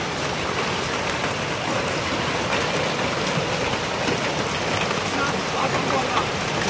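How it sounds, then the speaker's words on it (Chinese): Large hailstones fall in Yiwu, China, in a dense, loud, continuous roar of impacts that sounds like a heavy downpour hissing on hard surfaces and holds steady from start to finish. "看看这义乌下的冰雹，义乌下大冰雹了啊"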